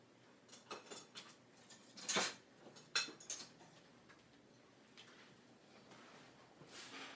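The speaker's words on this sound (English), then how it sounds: "Pick up my magic spatula and my whisk." Metal kitchen utensils, a spatula and a whisk, clinking and rattling as they are picked up, a few quiet taps and then two sharper clacks, soft and close in a kitchen.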